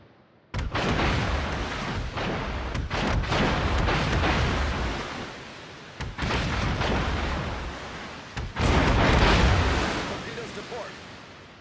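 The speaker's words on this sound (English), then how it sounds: "Destroyer blown up" A destroyer exploding in the World of Warships naval battle game: heavy booming blasts and rumbling detonations, loud and sustained with several sudden surges, close and dense.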